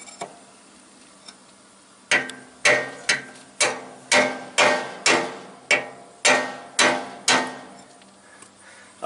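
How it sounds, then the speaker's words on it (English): Repeated hammer blows on a chisel, struck against a stuck part of a Bobcat skid-steer's leaking hydraulic cylinder. Two light taps are followed by about a dozen sharp, ringing metal strikes at a steady rhythm, close and loud. "try to make that thing spin there a little bit by hammering on that"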